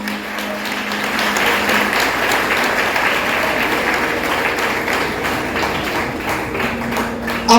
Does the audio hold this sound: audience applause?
yes